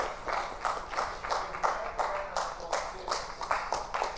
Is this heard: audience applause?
yes